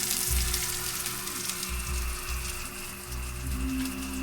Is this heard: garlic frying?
yes